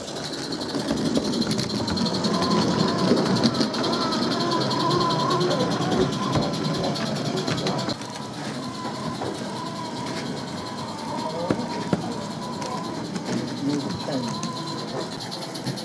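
O-gauge model railway train running at a model railway exhibition, a continuous whirring, rattling mechanical hum that carries on steadily throughout, with people talking in the background.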